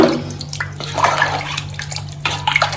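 Coconut milk poured into a pot of Ambur-style mutton biryani, a close continuous liquid splashing and gurgling with small bursts, no voices.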